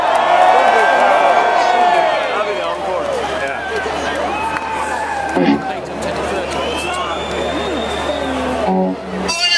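A large crowd at a concert cheers and whoops loudly and continuously during a song, a dense roar of voices with shouts rising through it.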